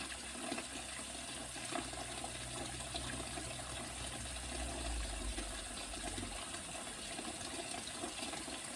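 Tap water runs into a cooking pot in a home kitchen while collard greens are being prepared, giving a steady, continuous gushing hiss throughout at moderate level with no one talking.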